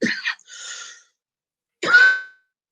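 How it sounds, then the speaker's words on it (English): A man coughs in two bursts: a quick double cough, a short rasping follow-on, then a pause and one more harsh cough, close and fairly loud against silence. "so maybe I can quit coughing"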